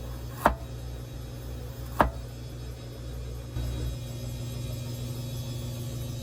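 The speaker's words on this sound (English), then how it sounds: "Slice ginger." A knife slices through ginger on a cutting board in a home kitchen, two crisp separate chops a second and a half apart over a low background hum, with no talking.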